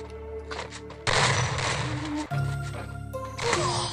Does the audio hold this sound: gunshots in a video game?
yes